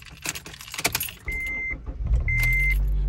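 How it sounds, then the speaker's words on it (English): A manual-transmission car is started: keys jingle, the starter whines briefly, then the engine catches and settles into a steady low idle rumble nearby. "we're gonna start the car"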